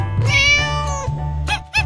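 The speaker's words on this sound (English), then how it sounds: "Cat." A cat meows in a bright, drawn-out call, loud and close, followed by two short quick meows near the end, with a low steady hum underneath.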